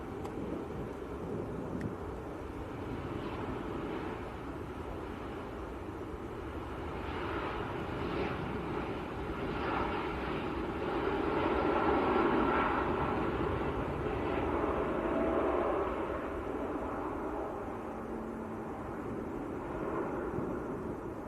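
Ethiopian airliner at Manchester Airport, bound for Marseille, heard as a steady jet engine roar. It swells toward the middle and then eases off, with some wind noise on the microphone.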